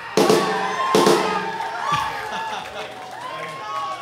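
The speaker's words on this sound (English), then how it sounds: "Let's hear it for Sean, everybody" A rock-club crowd in Boston cheers and yells loudly and continuously, with a couple of sharp bursts near the start before the cheering settles into a steady roar.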